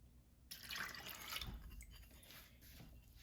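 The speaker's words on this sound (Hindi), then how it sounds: "1 कप पानी डालते हैं।" A cup of water poured into mash dal (urad lentils) with salt in a pot, a short close splashing pour starting abruptly and tapering off, with no one speaking.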